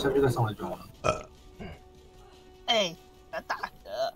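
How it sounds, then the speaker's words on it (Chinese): A single short burp from a person during a game of Overwatch, loud and close, with casual chatter around it. "要打嗝"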